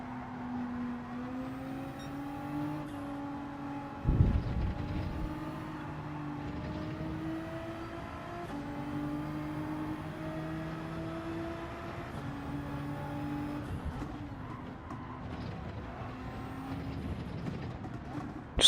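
Race car engines in Gran Turismo 7 drone as steady, rising and falling whines while cars circle a track, with a short thump partway through and engine noise continuing throughout.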